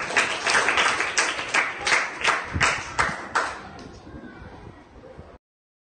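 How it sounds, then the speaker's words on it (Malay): A small group of classroom pupils claps in a rhythmic, evenly spaced pattern of sharp claps that grows looser and fades out after several seconds, fairly close and loud. "kita tepuk tangan untuk setiap kumpulan"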